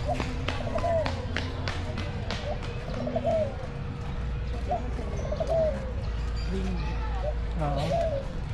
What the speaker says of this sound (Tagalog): Tingnan yung kalapati pa.